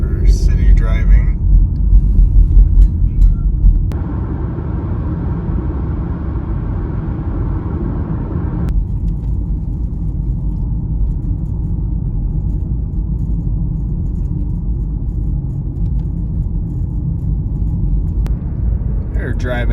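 A car drives at night through forested hills in Alabama, giving a steady, continuous low road and engine rumble that lasts the whole stretch.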